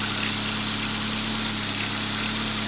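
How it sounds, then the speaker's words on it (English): A 1984 Volkswagen Rabbit GTI engine with non-factory exhaust runs steadily at a low, even drone with constant vibration, no clear rise in pitch. "Rev it a little bit."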